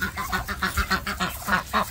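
Ducks quack in a rapid, steady run of honking calls close by on a farm, the calls repeating about every fifth of a second with no one speaking.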